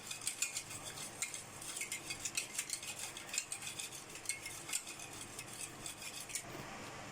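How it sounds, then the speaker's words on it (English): A whisk clatters rhythmically against a pan while creamy cheese pasta sauce is beaten, quick metallic ticks repeating steadily and fairly faint throughout. "And whisk it again till it is come on medium consistency."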